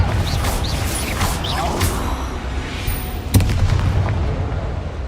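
Hogwarts Legacy gameplay, with a Confringo fire spell firing and exploding in sharp bursts over a dense, rumbling game soundscape of combat effects.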